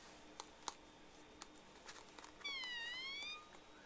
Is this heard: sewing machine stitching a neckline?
no